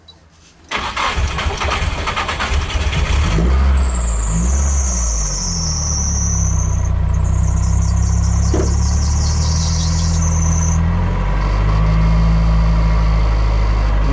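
A Nissan S14 drift car starts with a short cranking churn, then its engine catches and settles into a loud, steady idle close by, with a high whine over part of the idle.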